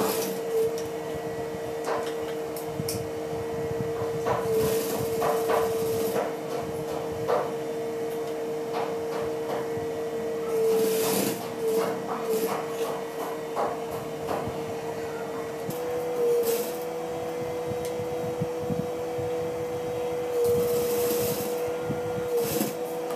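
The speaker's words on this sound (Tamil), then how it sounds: "லைட்டாக இழுத்து தைக்க போகிறோம்." A sewing machine stitches elastic onto gloves made from leggings, with a steady mechanical whir and hum broken by short bursts and pauses, moderately quiet throughout.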